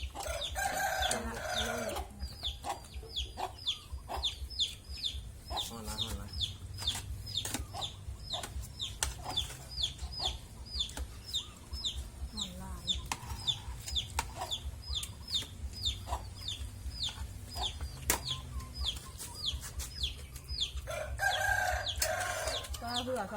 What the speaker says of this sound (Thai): เสียงไก่แล้วสารวัตร มีแต่ไก่